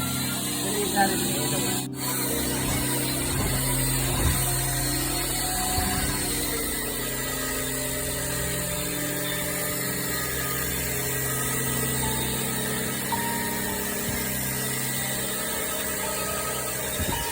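An electric mixer drill churns wall putty in a bucket, a steady loud mechanical whir with gritty scraping that runs unbroken throughout.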